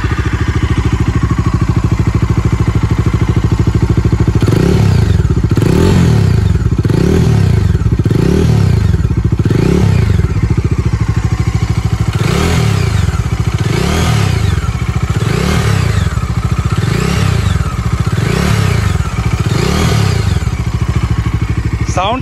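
Bajaj Dominar 250 motorcycle engine and exhaust blipped repeatedly, roughly a dozen rhythmic rev rises and falls over a steady idle, loud and close with mechanical clatter and no talk.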